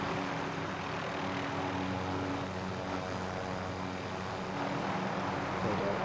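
An aircraft flown by the player in a video game, a continuous droning engine hum that holds steady and fairly loud throughout with no breaks.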